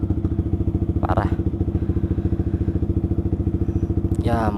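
A Yamaha R15 motorcycle fitted with an R9 GPX aftermarket exhaust idles with a steady, deep, bassy engine throb that carries throughout, with a couple of brief higher-pitched bursts over it.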